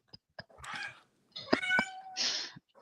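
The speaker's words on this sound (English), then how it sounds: "my cat wants to say thank you." A pet cat named Talisa gives several loud, close meows in quick succession, some drawn out and wavering, with short clicks and rustles between calls.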